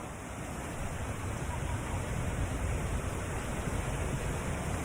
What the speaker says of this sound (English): We're next to this big waterfall.